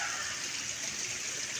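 A small stream flows on and on with a steady hiss, even and fairly soft, with no talk over it.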